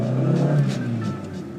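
A 1979 Honda Accord with a 72-horsepower engine accelerates from inside the cabin, its engine drone steady and climbing for under two seconds, with no talk over it.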